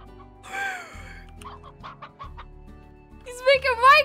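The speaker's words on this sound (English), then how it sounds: "He's making Minecraft chicken noises." A chicken in the game Slime Rancher clucks in short bursts over quiet background music, ending in a louder run of squawking clucks.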